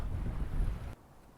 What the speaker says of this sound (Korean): 이렇게 물결 보시면은 바람이 되게 많이 불어요.